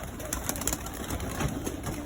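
Iraqi red pigeons in a loft coo softly and repeatedly, their low, rounded calls layered together against steady background noise, with no one talking.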